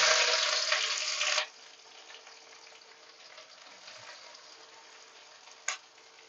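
Chopped onions hit hot oil in a kadai with a loud, bright sizzle that drops sharply after a second and a half to a softer, steady frying hiss, broken later by a brief clink.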